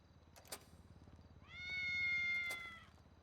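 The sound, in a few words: cat meowing in video game GTA V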